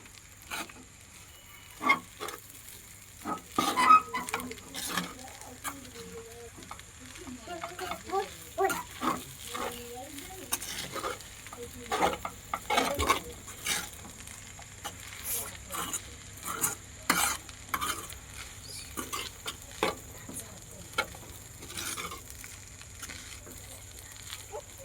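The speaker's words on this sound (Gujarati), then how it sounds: "આ રીતના હલાવીને મિક્સ કરી લેવાના પૌવાને." Poha being stirred and mixed in a pan for Gujarati potato poha, with repeated close scraping and tapping strokes of a spoon against the pan over a faint sizzle.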